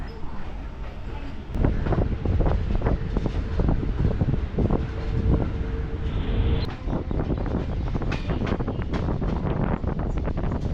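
A suburban train bound for Velachery rolls into Park Central station in Chennai with a rumbling, clattering roar and wind buffeting, a steady loud rush with irregular rattles and a faint squeal.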